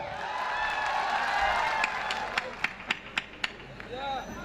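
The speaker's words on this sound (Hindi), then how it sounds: "अब इनके लिए ताली बजाओ।" An audience claps for a comic poet at a Hindi poetry gathering, a brief spell of scattered claps with several sharp separate hand claps near the end, under a voice.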